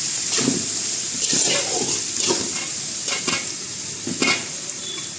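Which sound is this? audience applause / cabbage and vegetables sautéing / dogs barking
cabbage and vegetables sautéing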